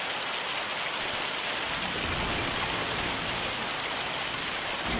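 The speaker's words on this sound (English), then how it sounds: "I'm not driving anything in the hail." Hail pounding down in Farming Simulator 25, a dense steady roar of pelting impacts that fills the whole clip at even loudness with no voices.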